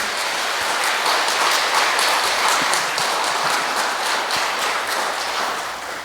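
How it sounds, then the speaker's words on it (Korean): Warm, sustained applause from a parish audience at a Catholic church Lenten lecture in Wangsimni, welcoming a visiting priest; the dense clapping stays steady and fairly loud for six seconds with no talking. "박수로 환영해 주세요."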